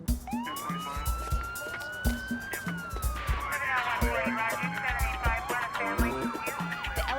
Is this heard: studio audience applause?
no